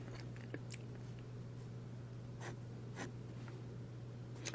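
A Lamy Safari fountain pen with an oblique broad nib scratches softly across paper in short, light strokes, quiet and close over a steady low hum.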